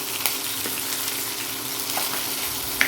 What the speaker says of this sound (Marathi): एक मीडियम साईजचा कांदा आहे तो बारीक चिरून घेतला आहे तो ऍड करते